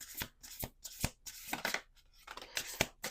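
Oracle cards shuffled by hand in a few quick, crisp bursts of riffling and tapping, close up and alone, with short gaps between the strokes.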